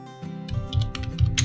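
Fingers typing a ping command on a computer keyboard, a short quick run of close, crisp key clicks.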